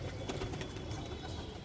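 A kaldama pigeon coos faintly nearby, with soft low murmuring calls under quiet background noise.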